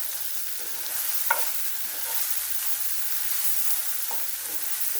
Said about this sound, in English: we're just going to saute our onions